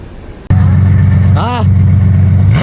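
A Ferrari F12 with straight pipes suddenly blasts into a loud, close, droning roar inside a tunnel, with a brief rising rev in the middle. The roar then holds steady and climbs again at the end, and a voice can be heard faintly under the engine.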